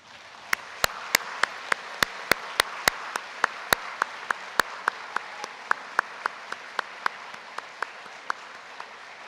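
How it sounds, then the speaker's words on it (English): Scattered individual hand claps ring out sharply and fairly close, one after another in an uneven rhythm, over a soft hall murmur at a university criminal justice graduation ceremony. "with a warm round of applause, join me in thanking your family and friends who are here today"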